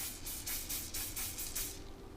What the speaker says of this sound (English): I'm gonna spray it with some oil.